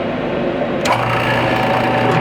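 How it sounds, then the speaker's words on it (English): A steady mechanical hum and motor drone from a vacuum pot used for soft plastic fishing lures run throughout, with a clunk partway through as a low tone joins in, like a vacuum pump starting. "We're going to put him in the vacuum pot."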